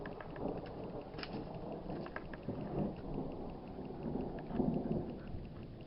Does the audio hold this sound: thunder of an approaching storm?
yes